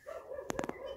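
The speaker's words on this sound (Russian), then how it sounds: "Собаки лают." Dogs bark on a dark village street at night in a Russian stanitsa, a quick cluster of three or four sharp barks over a low background hum.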